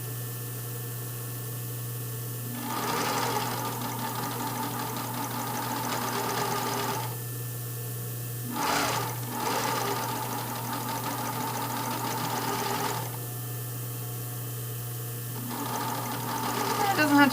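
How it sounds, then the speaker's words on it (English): A sewing machine stitches lace trim onto a brief, running in fast steady bursts separated by short pauses, close and loud under someone talking. "So I'm kind of sewing in that little scallop."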